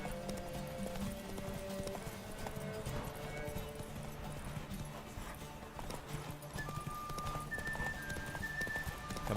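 Roach, the horse in The Witcher 3, gallops with steady rhythmic hoofbeats under game music and ambient sound, fairly faint and continuous.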